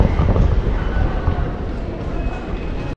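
Train rumble inside a Chinese railway station where metro and mainline trains connect, a steady low roar with faint wheel noise running continuously and loudly for about three seconds before cutting off abruptly.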